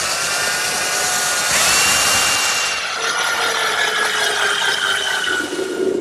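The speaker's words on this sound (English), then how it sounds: "Now I'm just going to pre-drill some holes for the screws." A power drill whines steadily as it pre-drills screw holes in wood, the pitch shifting as the bit cuts deeper, with no talking.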